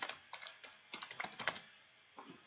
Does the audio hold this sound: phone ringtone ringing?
no